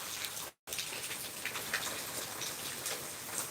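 Light rain begins to fall outdoors, scattered drops ticking and pattering faintly over a soft hiss, with a brief dropout near the start.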